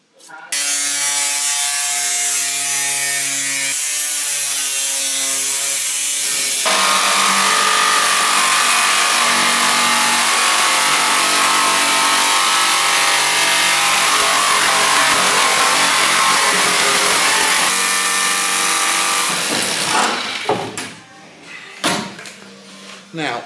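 A jigsaw cuts through a Land Rover Defender body panel for a side window opening, a loud, close, continuous buzzing rasp that shifts pitch partway through and then breaks into rattles and knocks as the cut finishes.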